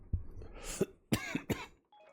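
A short series of three or four harsh coughs close to the mic, in quick succession, with no speech.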